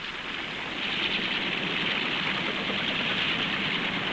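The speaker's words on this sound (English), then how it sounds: "The ability to land without runways was the main attraction of helicopters." Helicopter in flight, a steady broad engine and rotor roar that swells slightly after the first second and then holds constant, fairly loud with no voices over it.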